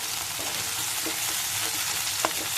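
Green chilies frying in a pan for sabudana khichdi give a soft, even sizzle, with faint stirring taps and one brief clink near the end.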